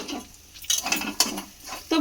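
Ground pea paste going into a kadai for a flour-and-pea recipe, heard as a few scraping, clattering knocks of a utensil against the pan, with no one speaking.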